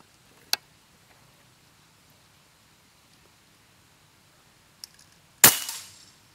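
A quiet room with a couple of small clicks, followed by one sharp, close air rifle shot that rings out briefly.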